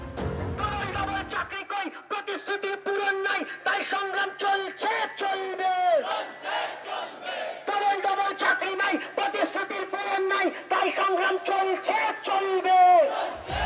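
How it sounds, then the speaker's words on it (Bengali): A crowd of TET job candidates on a protest march chants slogans in loud, rhythmic unison, the repeated calls pulsing steadily for several seconds. "টেটের মিছিলে একই স্লোগান উঠল পর্ষদ সভাপতির বিরুদ্ধে"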